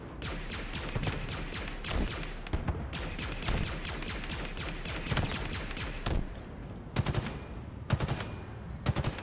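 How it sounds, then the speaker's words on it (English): Plasma weapon fire in Halo Infinite during a campaign fight, rapid bursts of sharp repeated shots in clusters with short pauses between volleys, loud and close over game ambience. "So we'll do we'll pepper him with plasma fire"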